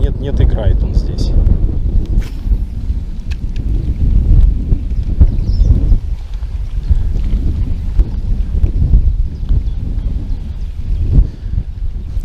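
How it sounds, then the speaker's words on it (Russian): Gusty wind at the mouth of the Moksha River buffets the microphone in heavy, rumbling bursts, with a voice talking underneath the roar. "Ветер такой порывистый, как бы тоже вот прям мешает делать забросы."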